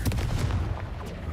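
A Confringo spell blast in the Hogwarts Legacy video game bursts out as a dense, booming explosive hit with a rumbling low tail, loud and close, followed by a second sharper crack about a second later.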